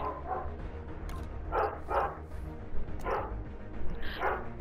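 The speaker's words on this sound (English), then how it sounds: "Man, what the fuck's wrong with that dog?" A dog barks in about five spaced, moderately distant bursts, some in quick pairs, over a steady low rumbling background.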